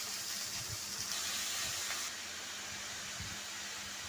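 Small chunos fish fry in hot oil for a chichinga (snake gourd) curry, giving a steady, moderately loud hiss and sizzle with faint low clatter throughout.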